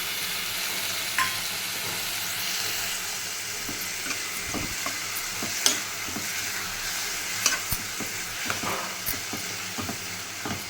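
A spoon stirs brinjal curry with tamarind in a pan, its irregular scraping strokes and soft knocks sitting over a gentle, continuous sizzle and bubbling simmer.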